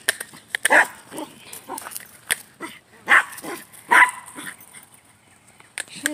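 A dog barks at another dog in a run of sharp, irregular barks and yips, with a few louder bursts. Close whimpering and handling noises come between the barks.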